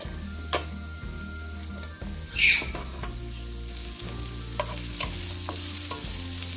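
Onions and green chillies frying in a pot for mushroom biryani, a steady close sizzle with occasional clinks and stirring scrapes, one louder rustling burst midway, no voices.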